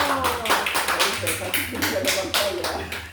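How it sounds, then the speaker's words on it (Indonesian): Audience at an Indonesian teacher training session claps for a participant, a short burst of scattered hand claps close by, mixed with a speaking voice throughout. "boleh tepuk tangan untuk bapak ini anakku"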